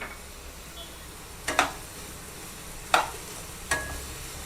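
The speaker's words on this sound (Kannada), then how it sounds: "ಆಯಿಲ್ ಹಾಕ್ಕೊಂಡು ಟೊಮ್ಯಾಟೊ, ಈರುಳ್ಳಿ ಎಲ್ಲ ಸಾಫ್ಟ್ ಆಗೋ ತನಕ ಹುರ್ಕೊಬೇಕು" Tomato and onion being fried in oil in a pan for tomato bath, three sharp stirring scrapes over a low sizzling background, close by and without talk.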